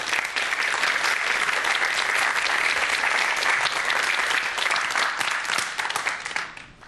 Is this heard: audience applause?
yes